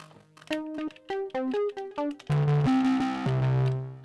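Raspy, heavily distorted synth bass from an Elektron Digitakt II plays a choppy sequence of short stepped notes, then settles into longer sustained gritty tones, loud and alone.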